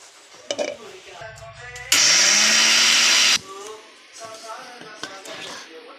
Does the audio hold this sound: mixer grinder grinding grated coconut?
yes